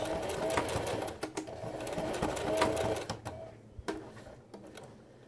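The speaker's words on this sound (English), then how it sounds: "we're gonna stop right here and backstitch" Sewing machine stitching a garment seam, then stopping to backstitch: a close, steady mechanical whirring rattle that breaks into short start-stop bursts toward the end, with no talk over it.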